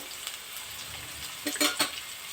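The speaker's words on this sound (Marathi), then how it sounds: "मिरच्या बी चार घेतलेल्या आहे कापून अशा बारीक एकदम करून घेतलेल्या आहे ते असं मस्त असं सगळं छान परतून घ्यायचं आहे" Finely chopped green chillies and moringa leaves sauté in hot oil with a steady close sizzle, broken by a few louder bursts as the pan is stirred.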